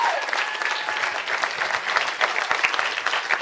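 Studio audience applauding as will.i.am is welcomed out at a student event, a dense, loud burst of clapping sustained throughout with crowd noise mixed in.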